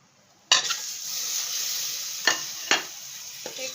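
Eggs dropped into hot oil in a pan burst into a loud sizzle, then a steady frying hiss continues, broken by a few sharp spatters and crackles, with no talk.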